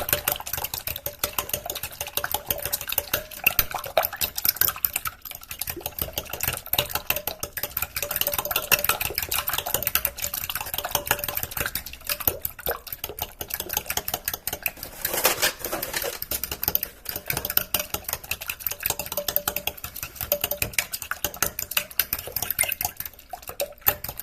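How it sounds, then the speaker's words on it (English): Ingredients being stirred with unsweetened almond milk in a bowl at home, a continuous rapid clatter and scraping of utensil against the bowl with wet sloshing, close and steady for over twenty seconds. "I'm going to give this a nice mix."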